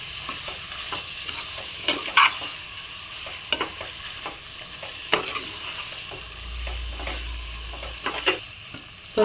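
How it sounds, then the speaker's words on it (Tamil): Chicken curry with yogurt is stirred in a pan while cooking for a chicken biryani: a steady run of close scraping, clattering strokes over a soft sizzle, with no voices. "தயிர் சேர்த்து நல்லா கிளறி விட்டுக்கலாம்"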